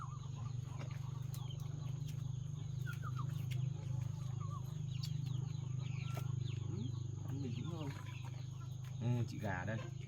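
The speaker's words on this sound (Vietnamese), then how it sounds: "chị gà này sao lại làm thế này?" A hen clucks in short, scattered calls on a farm, faint beneath a steady low hum, with soft clucking bursts toward the end and talk nearby.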